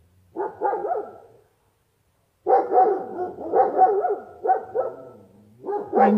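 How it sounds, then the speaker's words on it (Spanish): Dogs bark close by at night in Argentina, in two bursts of rapid repeated barks separated by a short silence. "perros no dejan de ladrar."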